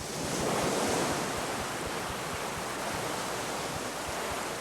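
Ocean surf washing onto a beach where seals gather, a steady, loud roar of breaking waves with a slight swell near the start, heard alone without voices.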